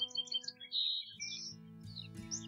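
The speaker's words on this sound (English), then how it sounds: "I heard a bird song." Clear songbird chirps and twittering phrases ring out close by, bright repeated notes with short pauses, over a quiet steady low hum.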